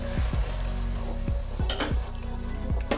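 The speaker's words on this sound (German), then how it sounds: "Erhöht jetzt erstmal die Hitze und gebt dann die Soße hinzu." Sweet chili sauce hits a hot wok and sizzles steadily, with repeated scraping and clinking of a utensil stirring against the metal pan throughout.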